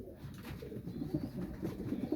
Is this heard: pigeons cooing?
yes